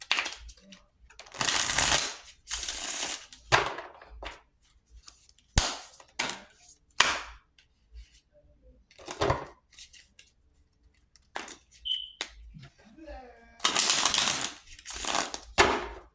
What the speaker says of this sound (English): And then I'll pull crystal cards.